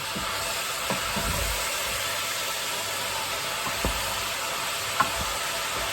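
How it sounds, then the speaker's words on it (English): A spoon stirs chicken curry ingredients around a sizzling pan, steady frying hiss under a few scraping strokes and a sharp clack near the end, close and fairly loud. "Give them a good stir, as we do, without trying to spill everything."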